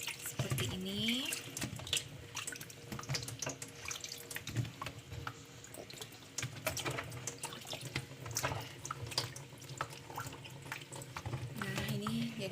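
Rinsed ingredients for nastar filling drain in a kitchen sink, giving a faint, steady trickle of running water with scattered drips.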